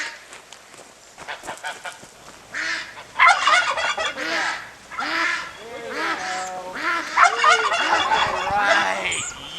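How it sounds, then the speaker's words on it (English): A flock of geese and ducks at a farm pond honk and quack in many overlapping calls, loud and close, with bursts building and fading throughout. "Now there is a happy gaggle of geese and a happy flock of ducks"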